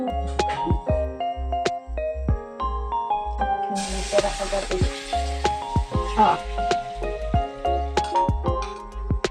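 Leftover tulingan tuna, cooked in coconut milk and then as paksiw, is reheated in a pan, a soft hissing sizzle rising midway under steady background music.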